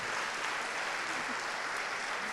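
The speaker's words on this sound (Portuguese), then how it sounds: "A palmas é para Deus." A church congregation applauds during a sanctification-week service, a dense, even wash of clapping from many hands that holds steady and fairly loud for about two seconds with no speech over it.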